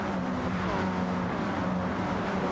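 Race cars at the Red Bull Ring in a racing game on a wet track, a continuous droning engine roar with a steady pitched whine, close and unbroken throughout.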